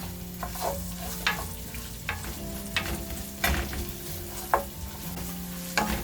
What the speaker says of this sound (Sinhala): මේ ටික දාගෙන අපි වැඩි ගින්දරේ පොඩ්ඩක් මේක මේ තෙලේ බැද ගන්න ඕනේ